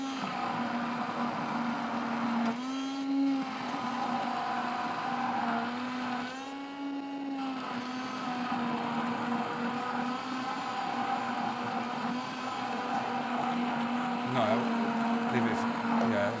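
A kitchen blender whirs steadily while blending salad dressing. A sustained mid-pitched motor drone runs the whole time, with brief surges in pitch and a few faint background sounds.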